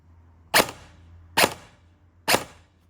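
A Specna Arms airsoft gun fitted with a HAL ETU fires three sharp, close single shots, spaced evenly under a second apart, each cracking out against near silence.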